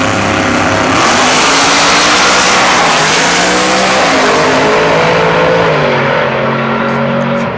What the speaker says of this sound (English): He is racing Kevin in his pro-charged 540 cubic inch big block Chevy powered 62 Bel Air